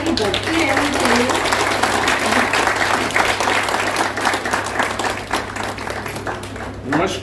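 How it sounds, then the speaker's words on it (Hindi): A Hindi-language talk audience on Rudraksha claps in steady, dense applause that stays loud throughout, with a low hum underneath and faint voices mixed in near the end. "तालियां एक बार बजती रहनी चाहिए।"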